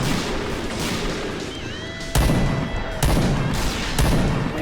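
Heavy shots from an XM2010 sniper rifle in PUBG ring out loud and close, a few separate blasts spaced about a second apart over a busy background of game noise.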